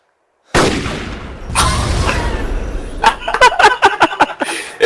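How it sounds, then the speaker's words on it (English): Explosions in the DayZ video game: a sudden loud blast followed by rumbling, then a rapid string of sharp cracks and pops like fireworks, fairly close. "There's some explosions up ahead."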